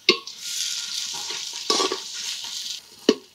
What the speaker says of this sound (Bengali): কম আঁচ রেখে পেঁয়াজটাকে কষাবেন, যাতে পেঁয়াজটা ভাজা ভাজা না হয়ে মজে যায় সুন্দরভাবে।